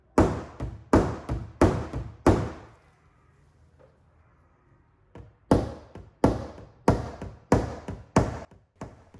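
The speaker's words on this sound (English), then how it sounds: "the first knockdown I'll be using is the one from Crowcarb. It's got a domed leather head, and this is superb for knocking down all crowned areas." A car dent is tapped down with a blending hammer and a domed leather knockdown, giving two bursts of sharp, evenly spaced close taps, about five each, separated by a quiet pause.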